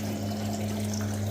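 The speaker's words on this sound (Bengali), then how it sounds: "এই যে জল ভরছে।" Water steadily filling a container indoors, a constant rushing flow with a low steady hum, likely from a pump, heard alone at moderate level.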